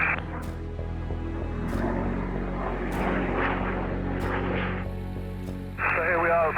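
Steady engine drone of a Spitfire in flight approaching the White Cliffs, a constant loud propeller roar filling the whole clip with talk over it and a brief brighter burst near the end.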